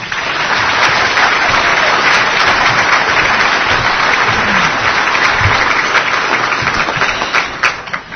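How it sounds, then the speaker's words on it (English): Sustained applause from a convention audience in Newport, Rhode Island, steady dense clapping for the full stretch with no talk over it. "This is the only place that you can come where they clap before you even do anything"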